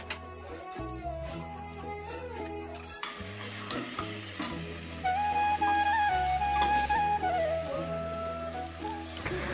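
Potatoes and tomatoes for a curry sizzle and fry in a pan in a village kitchen, with steady frying under stirring scrapes and clatter that grows louder partway through; no talk.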